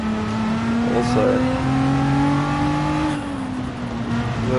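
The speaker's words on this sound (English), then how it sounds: "this GTR sounds fantastic" A Nissan GT-R engine in GT Sport revs steadily with a sustained, loud drone that rises slightly in pitch, then eases off near the end.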